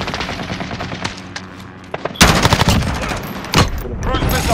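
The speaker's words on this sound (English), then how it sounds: "Enemy sentry gun" An enemy sentry gun fires in Call of Duty: Modern Warfare, rapid automatic bursts that rattle at close range, growing louder and denser midway with sharp booming shots mixed in.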